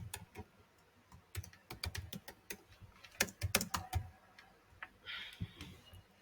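Computer keyboard typing while code is written, with irregular bursts of close, crisp key clicks and brief pauses between runs, no talking.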